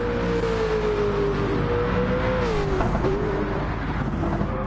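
A race car engine in a PS4 racing game drones steadily at high pitch, its tone sliding down and back up as it shifts, continuous and close.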